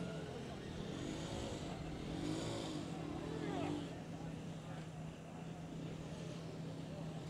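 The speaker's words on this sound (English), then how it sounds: "Very loud car, that one." A Formula SAE race car accelerates down a straight at a 2017 acceleration event, its engine rising in pitch as it passes at a distance, under steady commentary.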